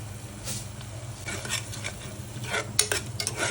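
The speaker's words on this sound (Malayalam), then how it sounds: "തക്കാളിയും കൂടി നന്നായി ഇളക്കി കൊടുത്ത്" Tomatoes and spices being stirred in a pan for tomato rice, producing soft irregular scrapes and light clinks over a low frying hiss, fairly quiet and with no talking.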